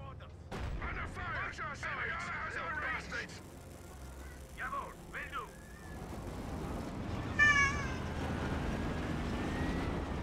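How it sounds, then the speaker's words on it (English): A pet cat named Basil gives a couple of short meows, nearly lost under booming artillery and gunfire from a Company of Heroes 2 match. "Basil going meow."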